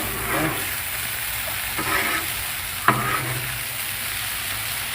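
Corn frying on a Blackstone griddle over medium heat, a steady close sizzle broken by a few scraping stirs of the spatula, the sharpest one near the end, with no voices.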